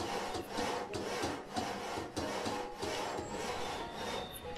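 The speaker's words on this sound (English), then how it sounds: "we've got some builders actually going to work here. You can see them sawing on it" Builders in the Banished video game saw and rasp at wood, a dense, steady run of gritty rubbing strokes repeating in a rough rhythm, close and continuous throughout.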